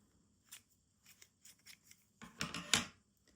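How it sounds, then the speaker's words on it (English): Scissors cutting knitting yarn, a few quiet snips and handling rustles, then a louder cluster of close blade cuts near the end, in a quiet room. "it's time to cut the yarn"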